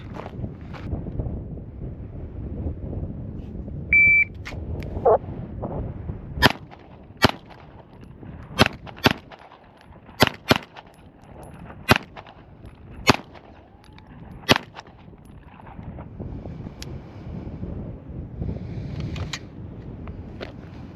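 Pistol shots at an outdoor shooting range during bill drill practice, about a dozen sharp cracks in quick bursts, loud and close, with wind noise rumbling underneath and no talking.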